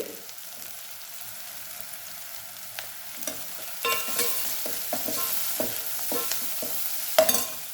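Dill greens sauté in a pan with turmeric powder for a dill palya, giving a low steady sizzle broken by repeated scraping and stirring clicks that grow busier toward the end, with no talking.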